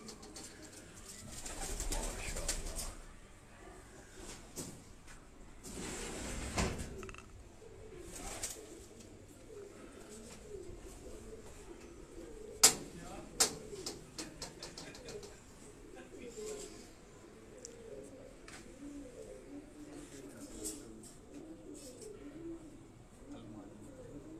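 Topi breed pigeons cooing softly at a distance, with occasional wing flaps and a few sharp knocks, while people talk nearby.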